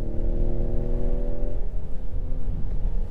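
A 2019 Ford Edge ST's engine revs up under acceleration, a steady loud drone with rising harmonic tones that shift after about a second and a half, heard close inside the cabin with no talking.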